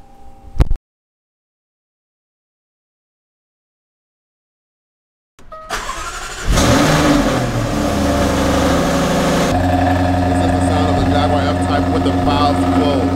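Lamborghini Huracan LP 610 Spyder engine revving with its exhaust valves closed, starting after a brief silence with a rising roar, then holding a loud, steady, close-up engine drone to the end.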